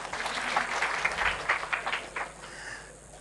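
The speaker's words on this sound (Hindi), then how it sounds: "ताली बजाओ इनके लिए" A small crowd claps for a few seconds, the applause fairly faint and trailing off toward the end.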